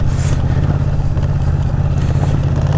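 A Yamaha Tracer 700 motorcycle rides offroad, its engine a loud, steady low rumble heard up close with rough wind and terrain noise over it.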